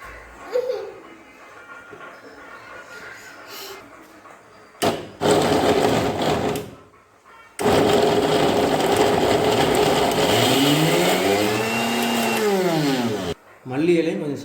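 Electric mixer grinding six cut gooseberries (amla) for juice, a loud whirring roar in bursts with short pauses between runs, then a long steady grind with a wavering pitch.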